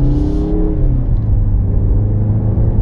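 A 2021 Mazda CX-30 Turbo with the SkyActiv Drive 6-speed automatic, its engine droning loud and close under acceleration, a steady low rumble with rising harmonics early that settles into an even whir.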